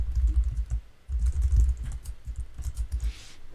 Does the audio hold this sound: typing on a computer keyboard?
yes